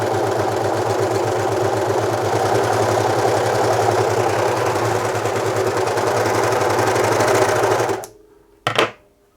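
A serger overlocker stitches fabric with a steady, loud, fast mechanical whirr and rattle that runs for about eight seconds. It stops abruptly, and a brief burst of noise follows.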